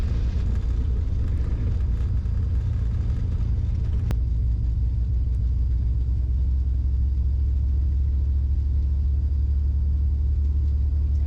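Airplane rolling out on a runway after landing with the brakes applied, a steady loud low rumble of tires and engine noise that continues evenly throughout with no voices.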